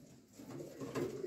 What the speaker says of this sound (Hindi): ये देख लो भाई, कलसरे और कांटों वाले कबूतर, सलारे कबूतर